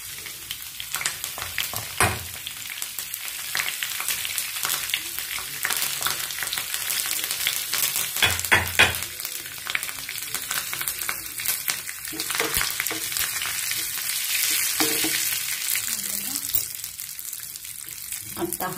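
Curry leaves hit hot oil and sizzle loudly, giving a dense, continuous crackling hiss with scattered pops and a few stirring clatters throughout.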